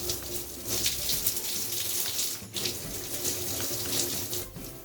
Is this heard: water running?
yes